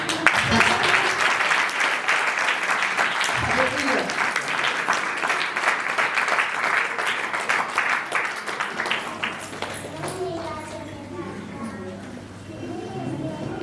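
A church congregation claps and applauds steadily for about ten seconds, a dense, continuous patter of many hands that fades toward the end, with voices heard faintly beneath.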